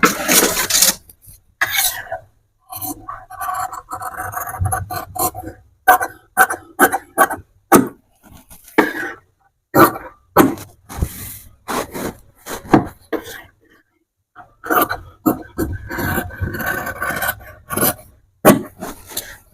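Scissors snip through blouse fabric in a run of short, crisp cuts, close and fairly loud, with brief pauses and some rustling of cloth between strokes.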